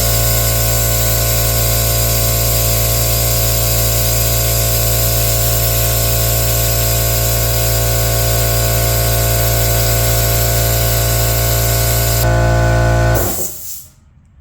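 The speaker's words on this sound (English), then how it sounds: "We're gonna hook our pump up to the air compressor, pull the trigger, and let it suck until there's nothing coming out of this hose" An air-powered pump hooked to an air compressor sucks differential oil from a Raptor, producing a loud, steady hiss and hum that runs unbroken before it shifts pitch briefly and then cuts off abruptly near the end.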